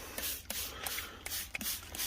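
Spray treatment of seedlings against powdery mildew: a steady, close hiss of spraying with a few short bursts and soft rustling, no talk.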